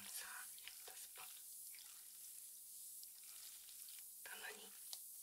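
Fizzing carbonated shampoo at a head spa, soft hissing sizzle of bubbles with faint wet scalp-rubbing rustles, close and quiet, with brief whispering.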